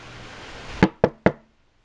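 Three sharp knocks on a door, the first one alone and the last two quicker together, loud and close over a faint room hum.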